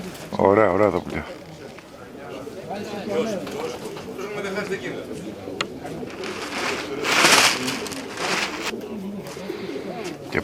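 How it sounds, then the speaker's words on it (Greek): Pigeons cooing and fluttering at a pigeon festival, soft repeated coos and wing noise beneath frequent speech from people watching the birds, with a burst of louder activity partway through. "Ωραία, ωραία τα πουλιά."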